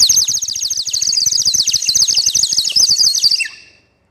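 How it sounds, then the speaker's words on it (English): Water-filled toy bird whistle warbling as air bubbles through it, a rapid, trilling, chirping birdlike sound with fast regular pulses, loud and close, lasting several seconds before stopping. "When we blow air into this whistle, then air travels in the form of bubbles and it separates and it makes the bird sound."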